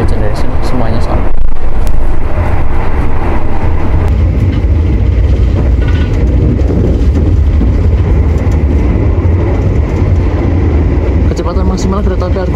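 A loud, steady rumble of the Argo Lawu train moving at its 120 km/h top speed, with continuous rolling rail noise and rattling filling the whole clip.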